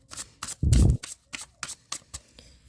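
Tarot cards being shuffled by hand: one loud, close riffle burst, then a series of short, crisp card taps and slaps at an irregular pace.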